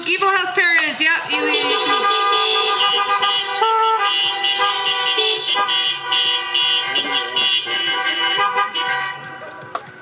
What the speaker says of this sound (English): you guys can honk for Leah if you want.